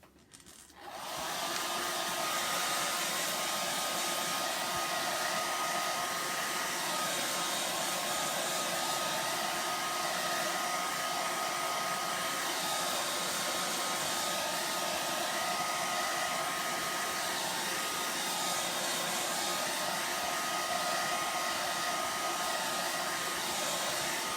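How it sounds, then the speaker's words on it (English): A hair dryer blows steadily on a painted wooden door tag, a loud continuous whirring roar that starts abruptly and runs unbroken, with no talking. "I'm going to blow dry this before I touch it."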